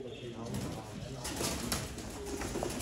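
Sialkoti pigeons coo steadily in a loft, their low throaty calls running continuously beneath someone speaking over them.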